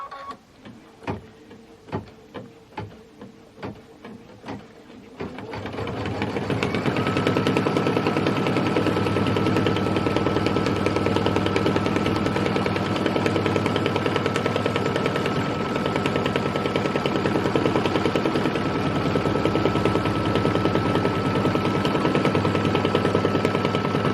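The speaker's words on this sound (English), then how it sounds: "So now I'm going to stitch the mug pocket tack down line." Sewing machine stitching a tack-down line for a mug pocket on a fabric sewing project, a few slow clicking stitches at first, then a loud continuous steady hum for about twenty seconds.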